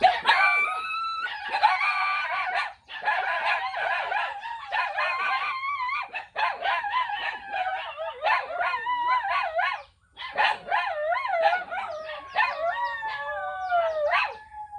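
Small puppies bark, yelp and howl almost without pause, a close, high-pitched chorus of overlapping cries that rises and falls, with a couple of brief lulls.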